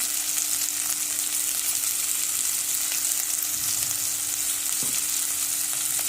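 Millet roasting in a pan for a millet pulao gives a steady, loud sizzle and hiss, continuous and close throughout, with faint stirring and no voices.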